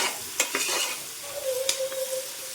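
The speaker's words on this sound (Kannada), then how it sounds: "ಈರುಳ್ಳಿ ಚೆನ್ನಾಗಿ ಫ್ರೈ ಆಗಬೇಕು" Chopped onion sizzles in a hot pan while a utensil stirs it, with a few scraping clinks and a steady frying hiss close by.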